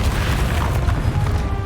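A Confringo fire spell explosion in a fantasy magic video game, a dense, continuous booming roar filling the short stretch without a break.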